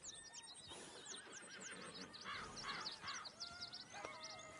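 A horse whinnies in Red Dead Redemption 2 while being saddled, a series of high neighs over outdoor ambience with crows cawing and faint hoof clatter.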